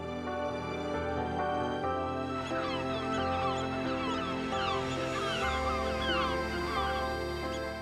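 Wild birds on the salt marshes of the Schleswig-Holstein Wadden Sea, where a flock of geese or ducks honks and calls continuously. The chatter grows denser and busier partway through, with moderately distant voices layered over one another.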